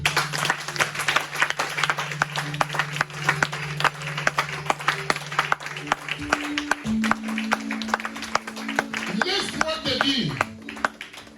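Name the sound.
congregation applauding during church sermon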